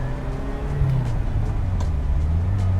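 A restored 1979 Ferrari Dino 308 GT4 with its factory exhaust pulls along in first gear, a steady low engine drone holding close and even throughout with no talk over it.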